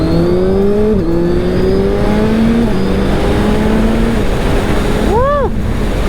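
A 2022 Suzuki Hayabusa motorcycle engine drones steadily through the gears with brief blips, then a sharp rev sweeps up and falls near the end, heard up close over constant wind rush.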